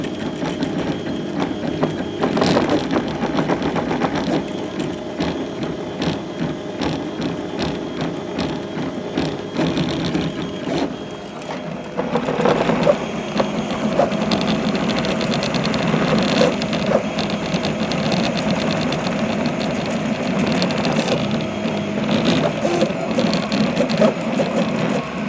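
A RepRap Wallace 3D printer whirs and buzzes through fast infill moves, its stepper motors chattering in rapid, shifting mechanical patterns, close and continuous.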